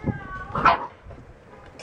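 Standard poodle puppies play nearby, giving a few short high yips and whines spread across a couple of seconds, with faint handling noise in between.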